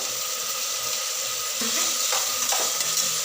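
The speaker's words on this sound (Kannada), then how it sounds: "ಚೆನ್ನಾಗಿ ಫ್ರೈ ಆಗುತ್ತೆ" Spices for vegetable rice fry in oil in a pan with turmeric, a steady close hiss that grows louder halfway through as ingredients are stirred.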